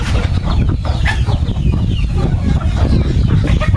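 Native desi chickens cluck continuously in a village yard, a busy, close chorus of overlapping clucks from several birds with no talk.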